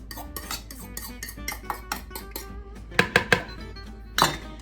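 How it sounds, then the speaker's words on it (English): Metal utensils clink and scrape against a bowl while four mashed eggs are folded into a creamy classic potato salad, with a quick run of light taps followed by a few sharper, louder clinks near the end. "I'm gonna go ahead and add these 4 mashed eggs into my potato salad"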